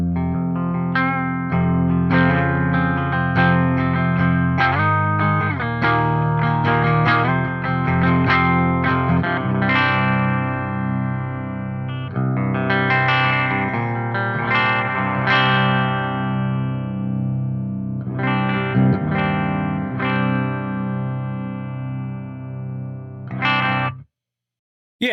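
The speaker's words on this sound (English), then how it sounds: "I'm just going to play some clean tones real quick so you get a sense of what this clean amp actually can do" An electric guitar played through a Synergy SNY-20IR amp plays a melodic passage of picked notes and chords with a clean, slightly chorused tone, ringing out before stopping abruptly.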